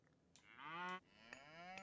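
Cows in the video game Age of Mythology Retold give two clear, close moos in succession, the first long and rising, the second shorter, over a quiet background.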